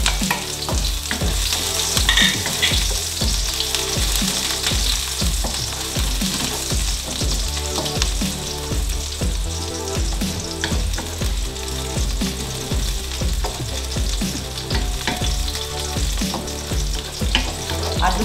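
Sliced shallots shallow-frying in hot oil in a pan to make crispy fried onions, a continuous dense sizzle with occasional scraping and stirring, close and steady throughout.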